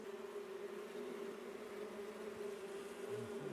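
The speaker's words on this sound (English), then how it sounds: "there's a big load of bees behind here" A tiny queenless honeybee colony living in a bird box hums with a steady, droning buzz that holds constant and fairly faint throughout, with no voices.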